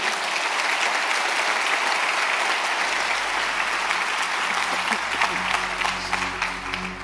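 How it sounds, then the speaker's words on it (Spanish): A church congregation claps in praise during a Spanish-language service, sustained dense applause filling the room, with a low sustained organ or keyboard tone entering beneath it partway through. "Dale un fuerte aplauso al Señor."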